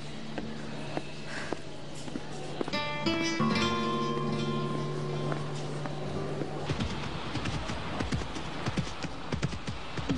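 Horse hooves clip-clopping steadily over a busy outdoor background with tonal sounds and birdlike calls, the hoofbeats fairly quiet and continuous throughout.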